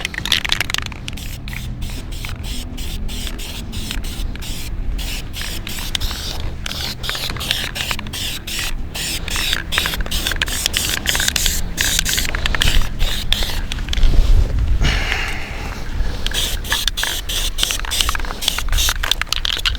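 Short repeated bursts of an aerosol can spraying light green paint onto a rifle, close and crisp, with a steady rhythm of hissing puffs and brief gaps between them.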